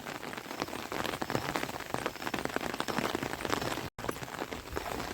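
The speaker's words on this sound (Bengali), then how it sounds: "চারিদিকে বর্ষা হচ্ছে" Morning rain falling steadily over a village, a dense, even patter of drops on surfaces heard close and continuous throughout, with no voices.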